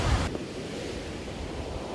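Ocean surf breaking on Kuta beach on Bali's south coast during high waves, a steady, close broadband roar of churning water that holds evenly throughout with no voices.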